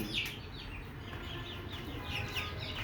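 Chickens on a rooftop farm cluck and chirp in short, repeated calls over a steady outdoor background noise.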